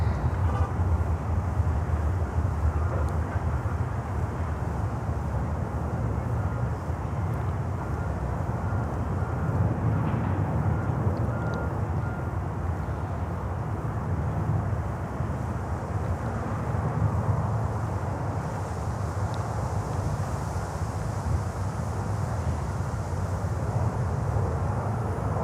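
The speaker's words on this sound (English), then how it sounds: "And there comes Atlas, the 767." An Atlas Air Boeing 767 airliner passes as a steady, broad jet roar that stays fairly constant and somewhat distant for the whole stretch, with no voices over it.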